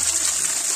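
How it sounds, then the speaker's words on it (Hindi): Water falling from above at a waterfall in the Tamiya hills near Chhindwara, heard as a steady, close, full rushing gush with no break. "ऊपर से पानी गिरता है"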